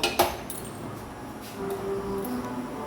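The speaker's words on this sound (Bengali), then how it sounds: "এখন আমি গ্যাস অন করে একটা কড়াই বসিয়ে দিব" A metal kadai wok is set down on a gas stove with a couple of sharp, close metallic clanks at the start, followed by a quiet, steady background hum.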